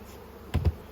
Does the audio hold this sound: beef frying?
no